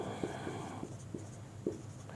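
A pen scratches faintly on paper while an accounting journal entry and its narration are written out, in quiet, uneven short strokes with soft pauses between them.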